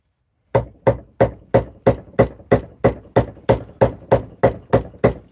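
A 1-inch gouge is struck into a big willow bowl, about fourteen sharp, evenly spaced mallet knocks ringing out close and loud with brief decays in between.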